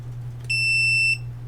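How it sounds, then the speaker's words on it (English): Multimeter switched to capacitance mode gives one loud, steady high-pitched beep lasting about two-thirds of a second over a constant low hum. "wow, it's a loud beep."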